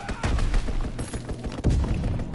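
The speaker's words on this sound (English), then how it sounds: "Strafing run inbound." Strafing-run gunfire in Call of Duty WWII pounds out as a dense, loud burst of rapid shots and thuds, with no voices.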